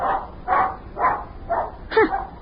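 A dog barks repeatedly in an old radio drama, five evenly spaced, fairly close barks forming a steady rhythm with nothing else over them.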